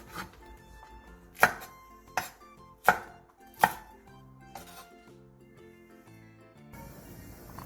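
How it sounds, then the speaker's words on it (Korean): A knife chops through shishito peppers on a cutting board, four or five sharp, uneven cuts close by, with soft background music underneath. "꽈리고추 크게 한 줌을 크기에 따라 먹기 좋게 2에서 3등분으로 잘라주세요"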